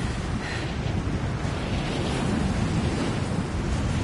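Steady, roaring wind gusts through a wilderness camping spot in Rise of the Tomb Raider, a dense, unbroken rush of noise that fills the whole moment with no talking.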